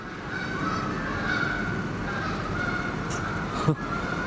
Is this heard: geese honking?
yes